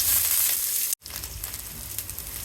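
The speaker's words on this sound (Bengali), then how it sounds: "পেঁয়াজ কুচি, পেঁয়াজ ভেজে দেব" Chopped onions frying in oil in a pan with bay leaves and cumin seeds, a steady close sizzle that cuts out briefly near the middle and then resumes.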